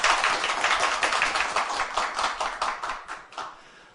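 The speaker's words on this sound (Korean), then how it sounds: "두 후보님 토론에 앞서 더 힘내시라고 다시 한번 힘찬 격려의 박수 부탁드리겠습니다" An audience at a cooperative's officer candidate debate gives encouraging applause to two candidates, a dense burst of many hands clapping that slowly thins and fades over four seconds, with no speech.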